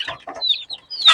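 Poultry chicks being readied for a coop give a few bright, high peeping chirps between soft, brief low rustles and murmurs, close and clear in a short burst.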